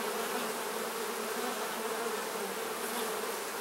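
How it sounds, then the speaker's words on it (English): A crowded honey bee hive hums with a thick, unbroken drone of buzzing wings, near and constant from start to finish. "Just massive amounts of bees in this hive."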